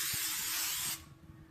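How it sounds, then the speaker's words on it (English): Coconut oil cooking spray hisses steadily from an aerosol can onto wax paper for about a second, close and bright, then cuts off, leaving faint kitchen handling noise. "I'm going to go ahead and just spray this all down with wax paper with some coconut spray"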